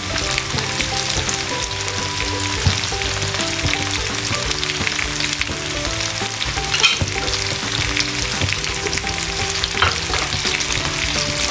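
Apples with honey cooking in melted butter in a pan, giving a continuous close sizzle with occasional stirring scrapes throughout and no talking.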